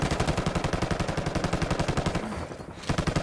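Heavy gunfire in a tight rapid rhythm, loud and close, with sustained machine-gun bursts running almost the whole time and a brief dip just before the firing resumes, no talk.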